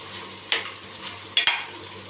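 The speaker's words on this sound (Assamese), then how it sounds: "ভালদৰে মই লাৰি দিছোঁ।" A spongy gourd and rohu fish curry is stirred in a pan: three short scraping strokes over a faint, soft sizzle, fairly quiet and close.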